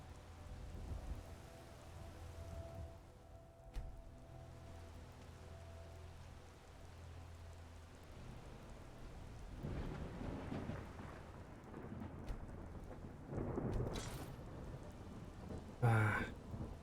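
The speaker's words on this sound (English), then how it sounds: "Get out of the rain for a second." Rain and rolling thunder in Skyrim, a steady wash of rainfall with low rumbles of thunder building in the second half and a sharp crack near the end, no talk over it.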